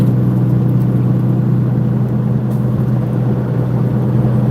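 A truck with a 13-speed manual transmission driving along, heard from inside as a steady, loud low engine drone and road rumble that continues without a break.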